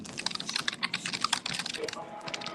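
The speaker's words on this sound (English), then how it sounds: "I can hear somebody typing." Rapid keystrokes clatter on a computer keyboard in quick irregular bursts, fairly close and crisp, slowing slightly toward the end.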